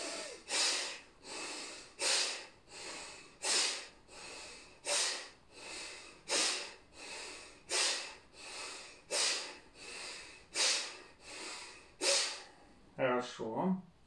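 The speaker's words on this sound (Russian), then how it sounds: "Следующее, пхастрика с руками." Bhastrika yoga breathing with arm movements: forceful, rhythmic nasal breaths pump out roughly every 0.7 seconds, loud and close, ending with a few quicker snorting gasps.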